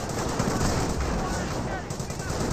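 Sustained gunfire from a Company of Heroes battle rakes a German grenadier squad, a dense, continuous rattle of small-arms and machine-gun fire with no pause, loud and close throughout.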